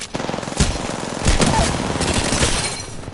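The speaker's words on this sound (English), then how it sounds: "Taking fire." Rapid automatic gunfire in the Apex Legends video game crackles in a dense, steady stream with a couple of louder impacts, close and loud throughout.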